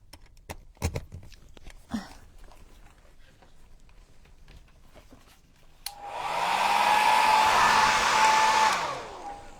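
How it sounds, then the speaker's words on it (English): A handheld blow dryer runs close and loud for about four seconds over a decoupage junk journal page, a steady whooshing drone with a whining motor tone, preceded by scattered handling knocks and taps. "The blow dryer, I guess."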